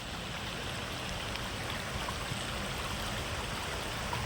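Water rushes steadily over rocks at Pinjarikonda waterfalls, a dense, even roar with no voices and no breaks.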